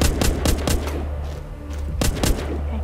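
Gunfire in The Walking Dead video game: several sharp, loud shots in a quick burst, a short pause, then two or three more close shots over a constant low rumble.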